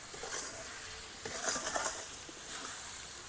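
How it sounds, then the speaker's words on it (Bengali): Starfruit pickle with sugar being stirred in a pan, a faint, steady hiss of cooking with soft scraping surges as the spoon moves through it, close but quiet. "দিয়ে এইভাবে 5 মিনিট নেড়ে নেব ভালো করে"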